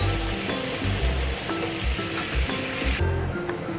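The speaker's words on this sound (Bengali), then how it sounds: "তুলে নিয়ে ওই যে তেলটা থাকবে ওটাতেই আমি ফুলকপিগুলো ভাজবো।" Cauliflower fries in oil left in a pan after cooking prawns, a steady loud sizzle with bubbling hiss and faint clinks of utensils, no voices.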